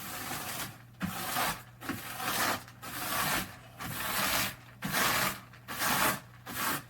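Air is pushed out of an inflatable sleeping pad through its deflation nozzle in repeated rhythmic rushes, about eight whooshing pushes with brief gaps, accompanied by rubbing fabric, close and moderately quiet.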